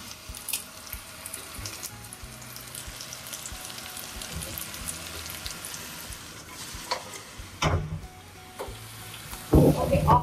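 Chicken frying in a pan, home-style: a low, steady sizzle runs throughout, with brief clatters and splashy bursts near the end and no voices.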